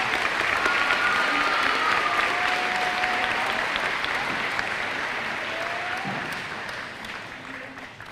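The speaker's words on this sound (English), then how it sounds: "can we please take a moment to give everyone that helped us through middle school a round of applause?" A crowd at an Oregon middle school 8th grade moving-on ceremony applauds, sustained dense clapping that tapers gently over several seconds, heard alone without speech.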